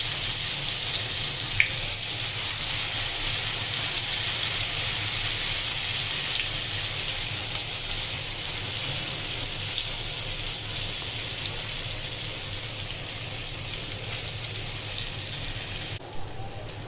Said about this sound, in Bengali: এই তো আমি এই পেঁয়াজগুলো আস্তে আস্তে ভেজে নিতেছি, উল্টিয়ে দিছি।